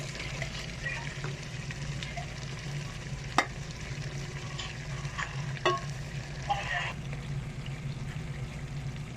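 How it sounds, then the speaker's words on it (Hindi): Potatoes stirred into sizzling garam masala, curry powder and salt in a pan for Pakistani chicken korma, a steady frying hiss with a few sharp spoon clacks against the pot, close and continuous. "इसके साथ हम ऐड करेंगे आलू।"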